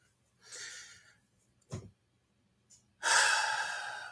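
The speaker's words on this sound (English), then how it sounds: "Take a deep breath." A person takes a deep breath during a calm spiritual talk: a soft inhale, a short nasal sniff, then a long, louder exhale, close and alone in a quiet room.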